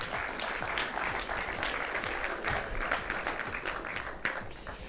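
An audience at a business school conference launching a student crypto association applauds steadily, the many hands forming a continuous close clatter for several seconds.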